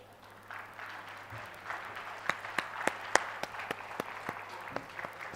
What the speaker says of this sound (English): Can we have 100 applause for our plenary speaker who has delivered beautiful sessions to us?